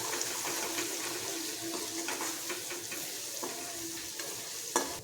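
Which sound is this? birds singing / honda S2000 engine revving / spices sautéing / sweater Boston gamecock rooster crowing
spices sautéing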